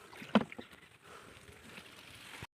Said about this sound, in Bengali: এই দেখো ডোঙা আমাদের চলছে, এই যে ডোঙা চালাচ্ছে।